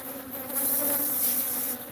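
Guard bees buzz steadily around a hive in a small town, a close, continuous insect drone with a faint hum that swells slightly midway and holds without pauses.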